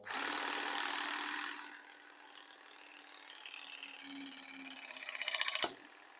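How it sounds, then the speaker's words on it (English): A battery press-fit crimping tool whirs loudly for a moment, falls to a low hum, then builds into a rattling grind that ends in one sharp, close snap as it squeezes a fitting onto copper pipe. "you're just squashing this O-ring like this onto the copper pipe"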